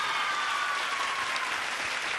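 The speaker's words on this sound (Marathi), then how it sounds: "जोरदार टाळ्या माईंसाठी आपण वाजूयात." A crowd at a Mangala Gaur stage event in Sangli applauds a judge, dense bright clapping that is sustained and even but fairly distant and soft.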